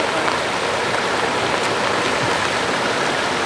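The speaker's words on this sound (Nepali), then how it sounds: "यस्तो लेदो पानी आइरहेको छ अहिले धमिलो पानी छ" A dense, steady rush of muddy stream water pours from a pipe at a rain-fed stream source, loud and close, running without pause and with no voices.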